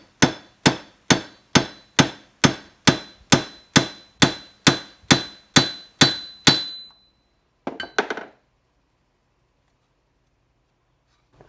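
Thirteen steady, evenly spaced hammer blows ring sharply on a metal rivet in shoulder armor, followed by a short metallic clink and then silence.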